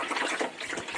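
Water pours steadily from a tap or container, a close continuous gushing splash with slight surges, no voices over it.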